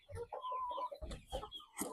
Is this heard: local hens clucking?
yes